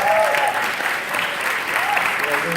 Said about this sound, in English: you guys need to give Mr. Tucker another round of applause.